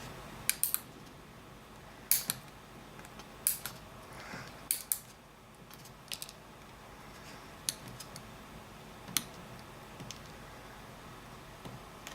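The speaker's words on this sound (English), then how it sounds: "You can see what I'm using, toenail clippers. I'm just cutting off the little pieces there." Toenail clippers snip small pieces off an HO scale model railroad layout part, giving a series of sharp, isolated clicks spaced a second or so apart, close and fairly quiet over a faint background hiss.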